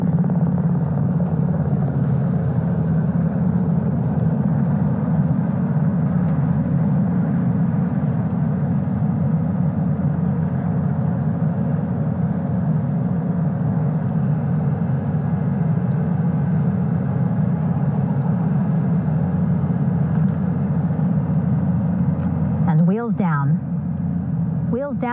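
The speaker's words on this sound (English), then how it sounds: "The first helicopter coming in." A helicopter hovers and settles onto a ship's bow flight deck during the Artemis II crew recovery, a steady low rotor rumble heard from across the deck while a voice narrates over it.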